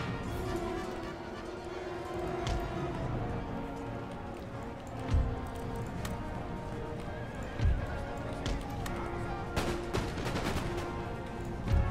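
Cossack cavalry horses gallop in the Empire: Total War battle game, with clattering hooves, neighing and whinnying amid scattered musket gunfire and heavy booms, a busy, continuous battlefield din.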